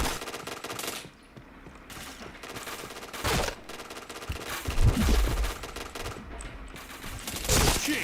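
Gunfire rings out in the online shooter Point Blank, rapid automatic bursts and sharp shots in uneven clusters over a busy game backdrop.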